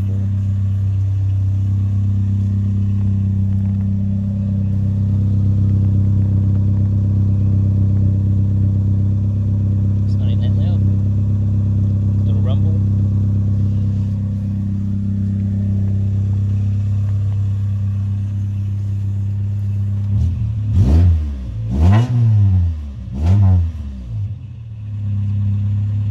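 A Toyota AE101 Corolla GT engine idles steadily after a cold start with a modified idle speed control valve, a low, even hum, then revs sharply a few times near the end.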